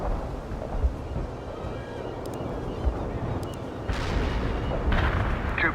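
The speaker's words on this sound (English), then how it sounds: "Iceman heading out with cluster bombs." A cluster bomb airstrike in World in Conflict rolls in as low, distant rumbling thuds with a few sharp booms, swelling into a louder rush of explosions near the end over steady battlefield ambience.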